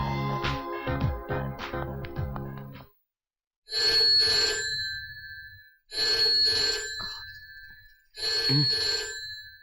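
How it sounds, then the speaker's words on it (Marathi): A telephone rings late at night, with bursts of electronic ringing repeating three times with pauses between, following a stretch of music. "प्रेमचा फोन आहे."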